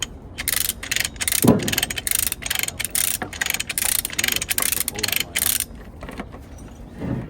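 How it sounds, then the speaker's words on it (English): A TikTok shop ratchet wrench clicks in quick, steady bursts during work on a damaged wood chipper, the mechanical ratcheting fairly loud and near, with brief pauses and a few duller knocks toward the end. "Morgan's got his TikTok shop ratchet."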